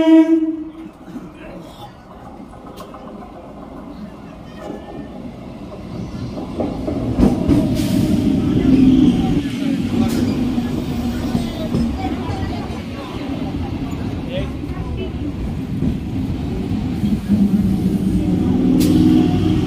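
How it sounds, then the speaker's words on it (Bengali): A passenger train pulls away from a station platform, heard from inside a general compartment: a horn-like tone at the start, then a rising, rumbling roll of wheels and carriage noise that grows louder and stays steady. "ট্রেনে উঠে পড়েছি, ট্রেন ছেড়েও দিয়েছে"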